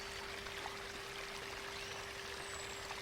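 A flowing river stream runs as a continuous, even rush of water, moderately loud and unbroken, with no voices present.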